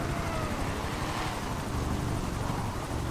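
Helicopter in the video game GTA 5 Online, a continuous, fairly faint rotor and engine whir with a steady beating texture, held evenly throughout without talk.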